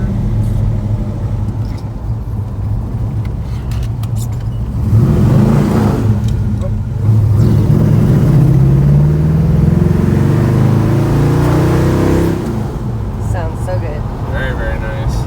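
A 1964 Plymouth Fury Sport's engine rumbles steadily from inside the cabin, swelling as it accelerates through the gears of its 4-speed, with people talking over the drone.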